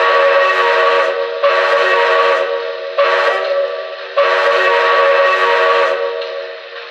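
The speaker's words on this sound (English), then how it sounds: "she is very loud, so here's the whistle for you guys." A Lionel Boston & Albany Hudson 618 model train sounds its Railsounds steam whistle, a loud, reverberant multi-tone blast repeated in four long sustained pulses with brief dips between, alone without talk.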